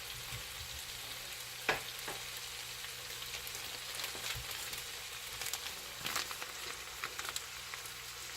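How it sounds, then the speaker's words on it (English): Smoked Polish kielbasa fries in a skillet with a soft, even sizzle and crackle, broken by a few sharper pops and utensil knocks as it is mixed, fairly quiet and without any talk. "mix it all up now that the kielbasa is getting good and cooked"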